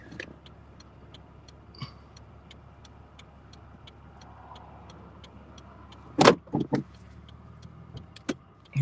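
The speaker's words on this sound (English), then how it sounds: "It's a pretty sick tractor, man. It's like a heavy duty tractor." A heavy-duty tractor drives along a road holding up traffic, a steady low engine rumble heard from inside a car, with faint regular ticking and a few sharper knocks and thumps nearby.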